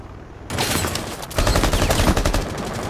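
Rapid gunfire in Rainbow Six Siege while shooting a suicide bomber during a bank terrorist hunt, loud dense automatic bursts that build into a continuous fusillade.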